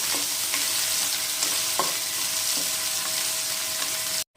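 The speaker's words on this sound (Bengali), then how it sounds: "আর পেঁয়াজটা ভাজা হচ্ছে" Chopped medium onion frying in a pan for a dhaba-style paneer curry gives a steady, close sizzle broken by a few soft stirring clicks, with no voices, ending abruptly.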